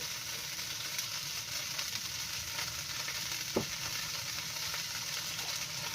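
Egg frying in a small amount of cooking oil, a steady close sizzle with crackling spread evenly over the whole stretch, with no talking and one brief soft knock partway through.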